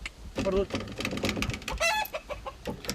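Backyard hens cluck in a busy, overlapping run of short calls, close and fairly loud, with a voice faintly under them.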